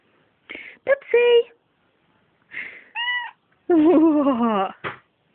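A female pet cat meows close by, several short and drawn-out cries in separate bursts with quiet gaps between them, the last call longer and wavering.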